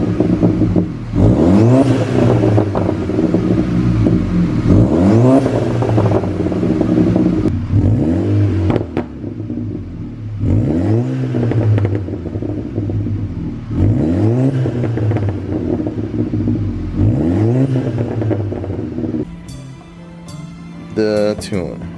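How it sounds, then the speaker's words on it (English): An Audi A5 with an aftermarket exhaust revs repeatedly, each blip rising and falling in a steady rhythm of about seven loud, close pulls over a continuous idle rumble, ending with a rattling, clattering stretch. "I'll go ahead and post a clip of the exhaust now."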